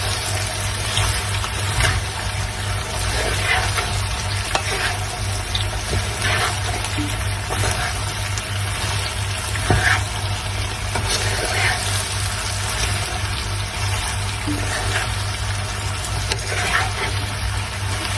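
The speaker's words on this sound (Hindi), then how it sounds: "और इनको फ्राई होने देंगे भिंडियों को।" Cut okra fries in a pan with a steady, even sizzle that runs unbroken and close, with occasional faint clinks.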